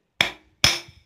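A hammer flattening a small wire loop: two sharp, ringing metallic strikes about half a second apart, close and loud, each decaying quickly to silence.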